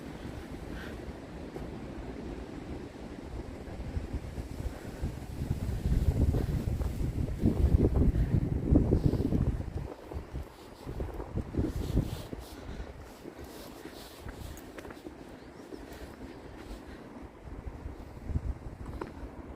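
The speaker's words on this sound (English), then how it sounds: "If that wind would just die down." Strong wind gusting across an open cemetery, buffeting the microphone with loud low rumbling that swells in the middle and eases off, with no talk.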